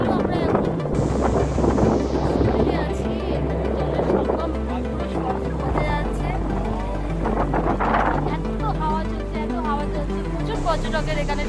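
An auto rickshaw carries passengers on the road to Dhanushkodi, its steady engine drone and wind rush filling the whole ride, with a constant loud rumble and faint passing sounds.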